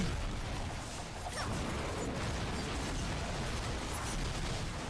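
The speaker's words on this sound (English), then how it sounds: "we're getting like more shadow explosions happening" Shadow explosions bursting from Chaos Rifts during a Diablo 4 Rogue Torment run, a dense, continuous wash of booming, crackling blasts and mechanical game effects with no clear gaps.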